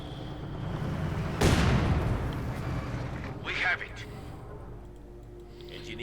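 A heavy blast and crackling gunfire go off in the tank battle of Company of Heroes 2, with one sharp, booming shot followed by a smaller burst, both loud and close over a rumbling battlefield bed.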